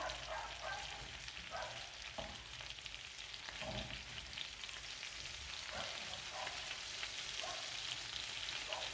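Chicken tikka fries in a pan with a steady, close sizzle and crackle that holds for the whole stretch, with a few soft stirring knocks and no voices.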